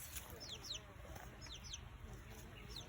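Young chickens cluck and chirp near a backyard garden coop, with short high calls scattered over a steady outdoor background of low rumble.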